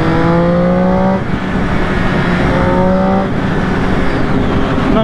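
A 2008 Triumph 675 Street Triple R motorcycle engine accelerating, its rising whine climbing through gears with two brief dips at the shifts, loud and close with no talk.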